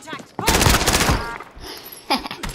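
Rapid automatic gunfire in a first-person shooter video game, fired through a wall, a loud sustained burst lasting about a second, then a shorter burst near the end, with faint player voices around it.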